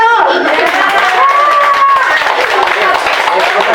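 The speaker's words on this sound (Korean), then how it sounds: "박수 쳐주세요" A seated audience at a victims' group general meeting and year-end gathering claps continuously in a dense, even patter for a few seconds.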